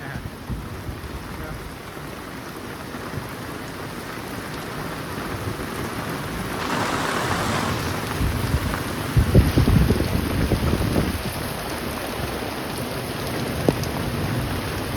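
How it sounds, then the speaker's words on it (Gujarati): Heavy monsoon rain pours steadily on a Botad village farmstead, a dense continuous hiss with occasional low thunder rumbling underneath, loud and unbroken throughout. "મિત્રો વરસાદ પડે જોરદાર"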